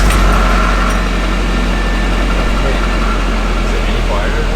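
A car engine idles steadily just after a budget eBay clutch kit install, a constant low rumble that holds at a loud, even level throughout, close to the microphone.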